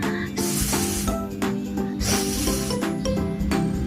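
A voice imitates the hissing of the letter S, drawn out in several breathy bursts, close and clear, with brief pauses between them.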